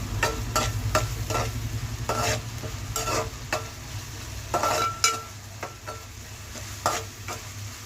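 Carrots sizzle with ginger-chili paste in a pan for vegetable fried rice, a steady close fry under repeated scraping and clinking stirs, with no talking.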